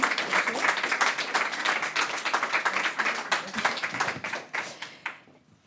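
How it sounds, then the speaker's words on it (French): Audience applause for a prize-winning research team at an awards ceremony, a dense patter of many hands clapping steadily for several seconds before thinning and fading out at the end. "On invite l'équipe à venez nous rejoindre et on peut les applaudir, effectivement."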